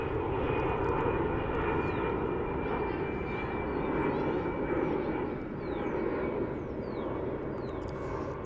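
Airbus airliner, an A350 or A319, passing at DFW airport: a steady, loud broadband jet engine roar with a whining tone, sustained throughout with faint birdsong chirps above.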